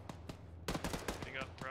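Heavy machine gun fire in the military shooter Arma comes as a rapid string of sharp, loud shots in a dense burst, and a voice speaks over the last part.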